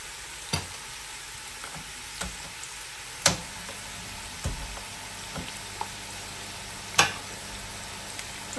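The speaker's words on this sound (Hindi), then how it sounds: "1 प्याज को हम करेंगे ब्राउन।" Onions browning in a pan for mutton pulao, a steady soft sizzle broken by sharp clicks and scrapes of a spoon stirring, with no talking.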